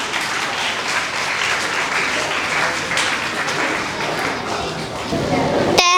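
An audience applauds at a school assembly in Lahore, steady dense clapping from a large crowd that fills the space evenly and swells slightly near the end.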